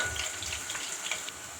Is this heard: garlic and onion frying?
yes